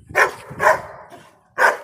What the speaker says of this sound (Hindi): अभी इनका बार्किंग गेम चालू हो जाएगा कुछ देर।